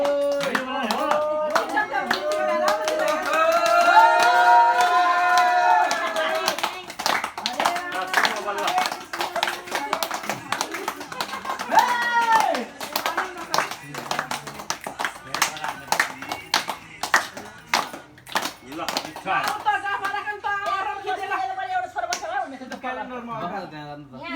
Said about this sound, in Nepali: अहिले जाँदा के सबैजना ताली बजाउँ ल सबैले